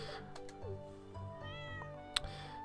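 A cat in the Stardew Valley video game gives a few short meows over quiet game music, with a brief chime near the end; nobody talks.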